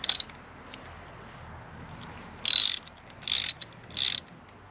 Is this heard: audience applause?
no